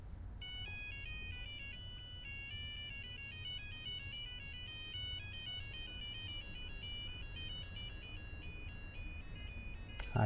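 A BBC micro:bit plays a programmed melody of thin, bright electronic beeping notes in a steady, looping tune, held close to a microphone over a low background hum, with no talk.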